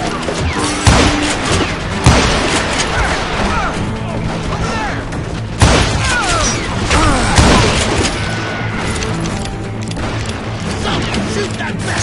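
Gunfire from Call of Juarez Gunslinger, a Wild West shootout in Stinking Springs, with repeated sharp shots and booms scattered over a noisy battle bed, and voices talking in between.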